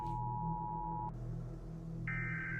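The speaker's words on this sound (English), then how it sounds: "An emergency notification." An emergency alert tone from an analog horror piece: a steady, pure electronic beep holds, cuts off abruptly, then a higher steady tone sounds over a low hum.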